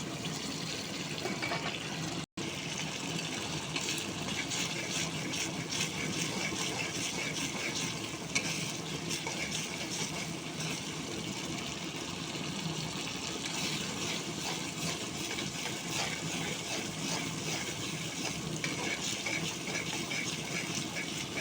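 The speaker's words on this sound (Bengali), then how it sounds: "আমি মশলাটা ভালো করে কষিয়ে নিচ্ছি।" A spice paste with green chillies sizzles in a pan with fried fish while being stirred, a steady, dense crackling hiss that continues without pause, with no voices.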